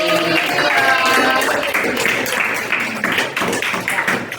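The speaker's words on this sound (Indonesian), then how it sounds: "Baik, tepuk tangan dulu." A classroom group claps together, dense rapid hand claps that stay loud for several seconds and then thin into scattered taps, with voices mixed in.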